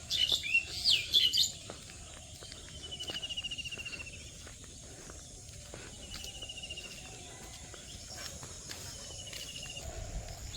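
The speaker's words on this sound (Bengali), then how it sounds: "ঘুঘু পাখি ওই যে এগুলো" Birds call and chirp around a village in the morning, with a few quick bright notes early on and softer calls scattered after them, plus crickets humming and light background noise throughout.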